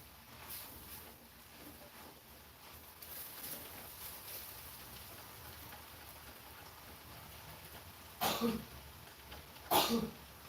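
Two sharp sneezes burst out close to the listener, spaced about a second and a half apart, over a steady hiss of background noise like rain or a stir-fry sizzling.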